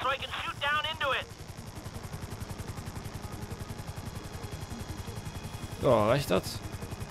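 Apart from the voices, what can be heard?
helicopter hovering in the video game GTA 5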